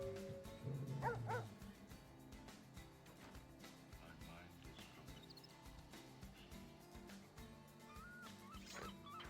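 Dog barking and yipping in the vampire role-playing game Vampire the Masquerade Bloodlines, a burst of yaps early on, then quieter intermittent barks under game music and ambient noise.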